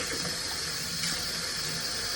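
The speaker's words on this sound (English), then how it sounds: "And then I just rinse it off in the sink" Water runs steadily from a kitchen sink faucet as a dish is rinsed, a constant close hiss and splash without pause.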